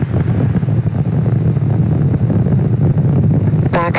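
Falcon 9 rocket with Merlin 1D engines roars in flight after launch from SLC-40, a steady dense low rumble with wind-like noise, continuous and loud, with a brief tonal burst at the very end.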